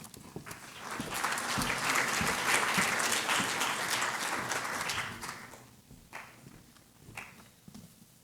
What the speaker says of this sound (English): A round of applause for Henry.